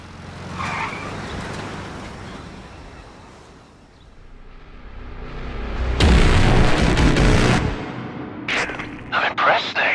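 A car in Metal Gear Solid 5 Ground Zeroes engine drones, then roars loudly with a heavy burst of skidding and tire noise midway, followed by sharp impact clatter, with a voice speaking over it.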